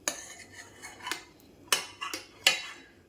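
A spoon scrapes and clinks against a pot while stirring melting butter into homemade ghee, several distinct metallic taps spaced irregularly over a quiet background.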